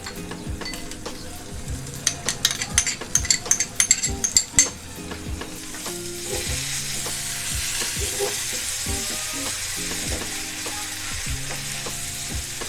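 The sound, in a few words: spices and yogurt frying for egg korma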